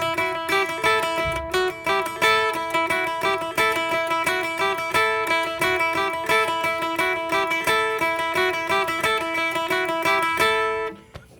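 Electric guitar playing the main repeating part of a song, with quick, even strums on the high strings in a steady driving rhythm, played alone and continuously until it stops just before the end.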